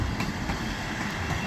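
A Class 158 diesel multiple unit rolls into Peterborough station on the East Coast Main Line, a steady close rumble of wheels and engine with faint rail clatter, no voices.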